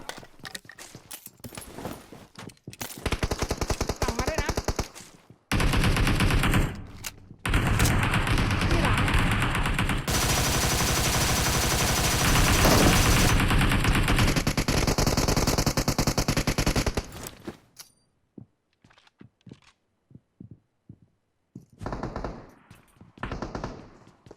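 Rapid automatic gunfire from the mobile battle-royale game PUBG Mobile rattles in long dense bursts, with short pauses between volleys and sparse quieter shots near the end.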